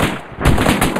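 Rapid machine gun fire in an Arma 3 military firefight, loud and close, with dense overlapping bursts running the whole second.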